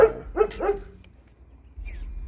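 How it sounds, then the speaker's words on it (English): A dog in a pen barks at radio-controlled vehicles, two or three sharp close barks in quick succession followed by a short pause and faint outdoor background. "My dog is making it known that"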